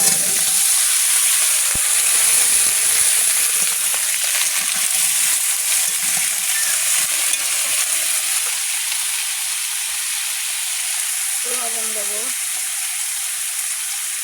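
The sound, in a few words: green chillies frying with mixed vegetables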